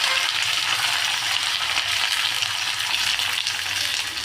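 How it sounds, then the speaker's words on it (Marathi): Cumin, mustard seeds and curry leaves sizzle steadily in hot oil while making chivda, a loud continuous frying hiss with no talking. "आता आपण जिरे टाकून घेऊया, मोहरी टाकून घेऊया, कढीपत्ता टाकून घेऊया"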